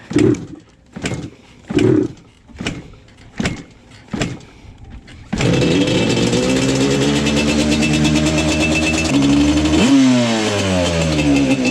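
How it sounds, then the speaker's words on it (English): A Yamaha Banshee ATV engine is kicked over in a series of rhythmic thumps, then catches and settles into a loud, steady two-stroke idle with blips of revving close by. "So you can hear it kind of does sound okay from an idle rev, right?"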